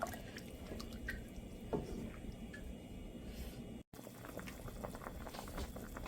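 A thin sour curry of potato, ginger and prawns with eggplant and green mango simmering in a pot, a soft steady bubbling and popping with occasional drips, quiet and close, no talking.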